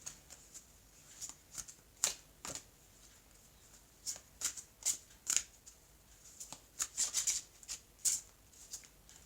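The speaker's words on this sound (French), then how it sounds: "je vais prendre donc 2 cartes, s'il vous plaît, Mehdi, donc 2 cartes de conseils pour ce tirage" Tarot cards are shuffled by hand for a reading, giving a string of crisp, close riffling snaps and flutters in uneven bursts, with faint talk in the background.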